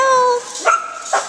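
Dogs at lunchtime give a drawn-out whine followed by two short, sharp yips close by, loud and with no talk.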